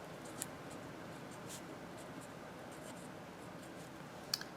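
Marker or pen writing out a math equation on a board, faint scratchy strokes with a couple of brief taps over steady quiet room noise.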